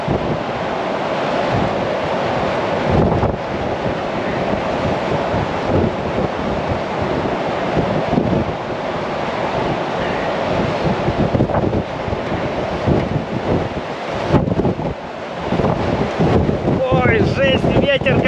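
Huge storm waves pounding the Crimean coast in hurricane-force wind, a constant roaring wash of surf with heavy gusts buffeting the microphone, loud and close throughout, with no speech heard over it.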